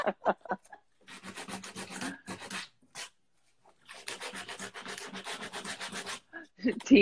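Sandpaper of 60 grit is rubbed back and forth in two long runs of quick, even scratchy strokes, close and moderately loud, with brief pauses in between.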